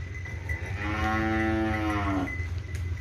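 A heifer moos once, a long loud drawn-out low call rising and then falling, close by on a cattle farm holding Friesian, Brahman and Cholistani heifers, with faint farm background noise and no talk.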